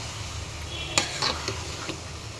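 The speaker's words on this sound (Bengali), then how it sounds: "একটু সময় নিয়ে ভালো করে নেড়ে চেড়ে দিন" A spoon stirring sweet-sour-spicy mango pickle slowly cooking in a pan, a few soft scraping clinks against the metal over a low steady sizzle.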